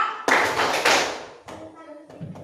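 A classroom of children performs a rhythmic group clapping routine, with bursts of hand claps and taps mixed with children's voices and chanting, fairly loud and close.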